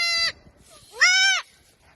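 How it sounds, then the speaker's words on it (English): On a farm, a mother goat lets out two loud, close bleats, a longer wavering call and then a second after a short pause, heard alone without talk. "Mama goat doesn't like the dog getting too close."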